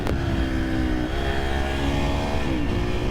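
A 2023 KTM 350 SXF dirt bike engine revs hard and loud throughout, a steady close roar with rising and falling pitch as the rider pops a power wheelie.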